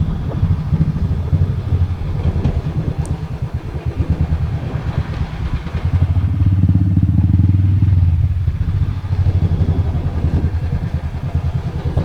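Motorcycle engine idling and rumbling at a lakeside viewpoint by Tehri Lake and Tehri Dam in Uttarakhand, heard steady and close for the whole stretch, swelling louder midway, with no talk over it.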